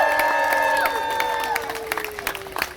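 Crowd applauding and cheering at a Renaissance festival stage show, scattered clapping building under sustained musical or vocal tones that slide downward and fade.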